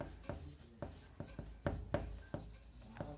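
Chalk or marker tapping and scraping on a classroom board in a chemistry lesson, about ten distinct strokes in an uneven rhythm, close and fairly clear with no speech.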